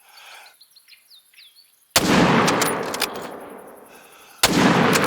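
Two loud rifle shots ring out in the hunting game theHunter: Call of the Wild, each with a long rolling echo. Faint birdsong plays in the quiet before the first shot.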